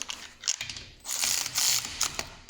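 A ratchet wrench with a 14 mm socket tightens a front brake bolt on a Porsche Cayenne S, giving quick bursts of dense metallic clicking with short pauses between strokes, close and clear.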